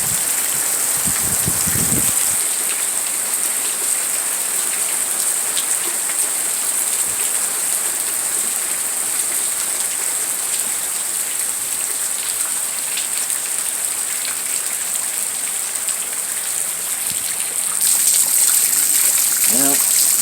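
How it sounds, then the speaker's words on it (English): Steady rain falls in Tucson after a long drought, a dense, continuous patter of drops on surfaces that holds even throughout and swells slightly louder near the end, with a brief low rumble early on. "We really needed this rain."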